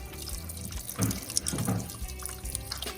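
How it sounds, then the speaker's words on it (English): Cold tap water runs into a cooking pot for salt fish and okra, a steady moderate stream with a couple of louder splashing surges midway, no voices. "now we're gonna add some cold water to this"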